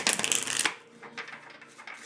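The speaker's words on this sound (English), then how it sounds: "I'm going to start to shuffle the cards" A deck of tarot cards is shuffled: a brief, crisp riffling burst up close, followed by softer sliding and tapping of the cards.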